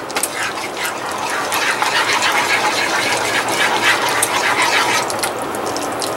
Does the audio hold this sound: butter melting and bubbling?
yes